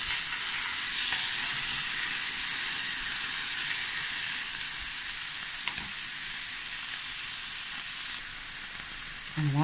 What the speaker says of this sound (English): I'm just going to fry this for a few minutes.